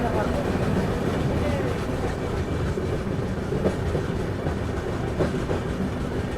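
The Rayalaseema Superfast Express, train 12793 from Tirupati to Nizamabad, runs on rails with a dense, steady rumble and rhythmic clickety-clack of wheels over joints, heard loud from on board, with faint voices underneath.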